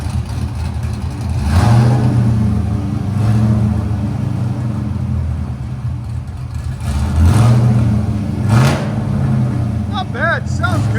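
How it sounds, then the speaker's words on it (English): A car engine with a straight-pipe exhaust revs loudly in several rising bursts with a raw, deep rasp, settling between pulls; the exhaust is very loud and close. "But I wanted you guys to hear it with straight pipe."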